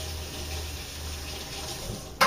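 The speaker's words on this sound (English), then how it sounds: "Let me rinse my hands real quickly here." Tap water runs steadily as hands are rinsed under a faucet in a home kitchen, a soft continuous splashing hiss at moderate distance, ending with a brief sharp knock.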